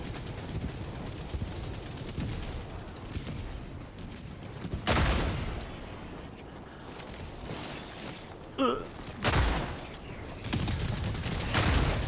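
Shotgun blasts ring out in the video game Warhammer 40,000: Darktide, with sustained gunfire and two sharp, loud bursts cutting through, one near the middle and one late, over continuous battle din.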